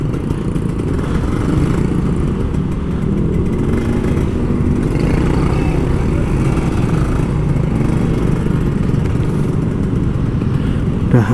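Kawasaki Ninja RR motorcycle ridden through Jakarta traffic, a steady loud engine drone with wind rumble throughout, no clear revs standing out.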